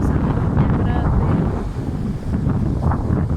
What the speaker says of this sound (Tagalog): lakas ng hangin man at saka yung tubig at saka talagang malakas ang hangin niya.